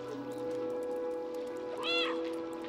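A cat meows once in the video game Stray, a clear rising-falling call near the end over a steady musical drone and soft game sounds.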